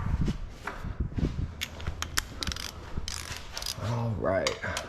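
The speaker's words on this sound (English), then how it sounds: "Let's see if I can do it with a 3/8 ratchet." A 3/8 ratchet wrench works on a bolt during transmission and subframe removal on a 1983 JDM Z31 rally car, giving close, irregular metallic clicks and clanks of the tool, with a voice speaking near the end.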